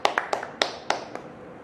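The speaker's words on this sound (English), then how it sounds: "Let's give all of our winners and contestants a round of applause" Several sparse, separate hand claps ring out at a spring conference awards session, a thin smattering rather than full applause, each clap distinct with a short decay.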